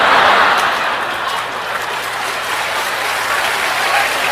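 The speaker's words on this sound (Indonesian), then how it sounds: "Nggak usah tepuk tangan." An audience at a church sermon gives a burst of continuous applause that stays fairly even for several seconds, with no talking over it.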